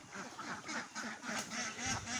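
Ducks on a duck farm quack close by in a busy overlapping chorus, several loud nasal calls packed into a couple of seconds.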